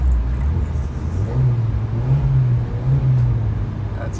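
A 4-cylinder 1.0 liter car engine revs loudly up close, with a deep droning hum that rises and holds steady across several seconds, and no talking.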